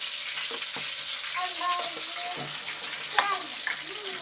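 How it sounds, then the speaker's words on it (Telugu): Tomatoes tipped into a pan of frying green chillies, with a steady wet sizzle and stirring clatter running throughout and a couple of louder sputters near the end. "ఈ టమాటా కూడా వేసేస్తున్నాను"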